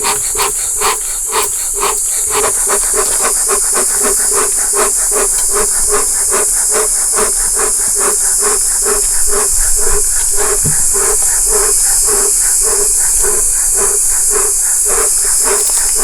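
A beekeeper's smoker puffs smoke at a strong colony's hive in an apiary. A steady airy hiss runs throughout, broken by rapid, regular bursts of whooshing puffs, close and loud.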